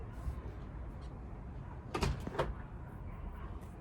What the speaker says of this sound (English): they keep like opening the door and then closing the door